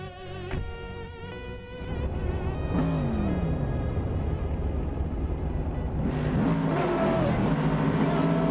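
Race car engines rev and roar together at the start of a racing game event on the Monza Vintage full course, a loud, rising chorus of accelerating motors with pitch sweeps as cars pull away.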